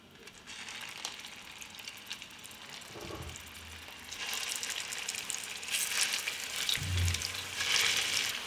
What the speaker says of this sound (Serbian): Ulje se zagrejalo i spuštam ćufte i pržimo ih